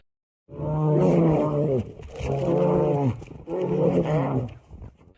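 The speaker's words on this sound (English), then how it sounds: "Starting with horrific warning growls, the massive, giant, fluffy beasts put themselves in an intense battle by standing tall" Two big brown bears fighting in a Finnish forest let out three long, loud, deep roaring growls in close succession, each rough and drawn out with brief breaks between.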